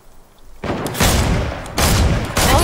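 Video game gunshots fired through a thermal sight, heavy booming bursts arriving in loud blasts after a quiet start, each followed by sustained rumbling noise.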